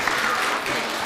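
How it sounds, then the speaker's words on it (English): Students and audience at a high school debate give both teams a loud round of applause, a dense steady burst of clapping filling a short stretch. "Please give both teams a round of applause for working hard to prepare for today's debate"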